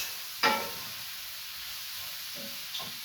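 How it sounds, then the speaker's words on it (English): Mushrooms frying in buttery fat give a steady soft sizzle and hiss, broken by a sharp scrape of a quick stir and a couple of lighter clinks from the pan. "Just give our mushrooms a quick turn in the buttery fat"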